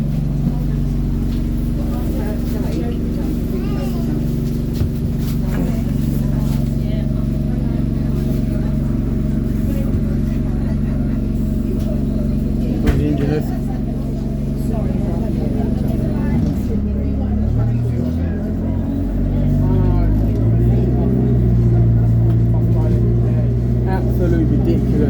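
A UK rail replacement bus drives along with a steady low engine drone and rumble, shifting pitch as it moves, while passengers talk nearby throughout.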